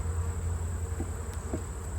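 A steady, close drone of honeybees buzzing around an open hive of combined colonies during an October inspection, a dense continuous hum with a few faint knocks.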